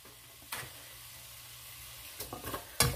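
Minced garlic and vegetables sizzling in a pot for Italian wedding soup, a soft, steady hiss broken by a few sharp stirring scrapes and clicks toward the end.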